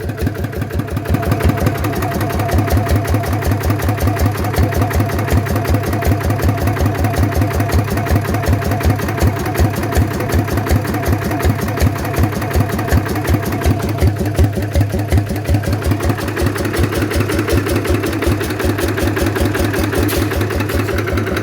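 A modified 150cc motorcycle engine with a performance cam runs steadily and loudly close by, its exhaust throbbing with a rapid, rough pulse and slight swells in revs throughout.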